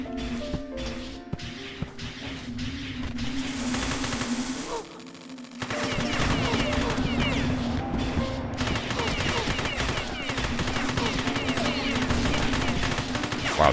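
Gunfire in the video game Beyond Citadel, dense rapid shots and impacts in a loud continuous battle, with a brief drop in sound midway before the firing resumes.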